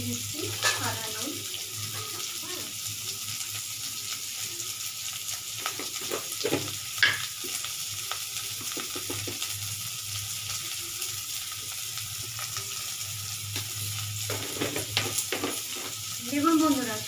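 Chickpeas fry in a pan with a pinch of white salt, giving a steady, close sizzle under intermittent stirring scrapes and clatters, with sharper bursts of activity near the end and no talking.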